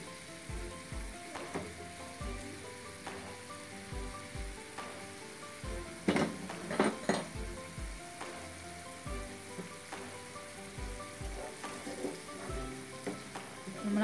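Onions fry with salt in a pan, a steady soft sizzle broken by regular scraping strokes of a spatula and a brief louder clatter midway, no talking.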